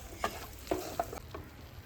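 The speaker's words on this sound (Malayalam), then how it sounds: "വേവിച്ച ബീഫും അതിലെ സ്റ്റോക്കും കൂടി ചേർത്തിട്ട് നന്നായിട്ട് വഴറ്റുക" Cooked beef and its stock stir-fried in a pan for Kerala-style beef pepper roast, with a few distinct scraping stirs over a soft, steady sizzle, close and fairly quiet.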